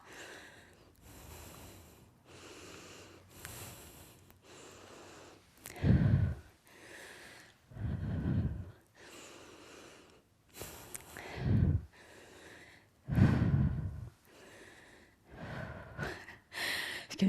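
Heavy, rhythmic breathing of someone winded after a HIIT workout round, with repeated loud exhalations standing out between quieter, steady breaths, close and alone without talk.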